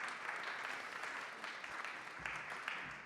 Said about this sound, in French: Je pense qu'on peut applaudir Mustapha et Aurélie.